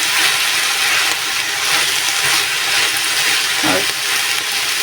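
Malabar spinach (pui shak) fries in a pan with a steady, close sizzle and hiss, a few soft stirring scrapes breaking through, and no voices over it.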